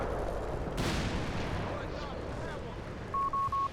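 Artillery salvo in Company of Heroes 3, a dull heavy boom with rumbling battle noise around it, mid-distance, followed by short repeated beeping tones from the game interface.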